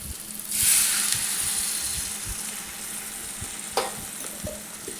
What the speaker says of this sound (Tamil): கொஞ்சமாக தண்ணி ஆட் பண்ணதுக்கப்புறம் நல்லா வதக்கிக்கணும்.